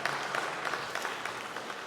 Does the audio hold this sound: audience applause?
yes